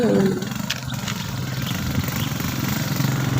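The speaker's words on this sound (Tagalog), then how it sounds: "yung mga motor na nadaan" Motorcycles passing by on a rural road beside a field in the Philippines, engines humming and revving at mid distance in a continuous stream, with no talk.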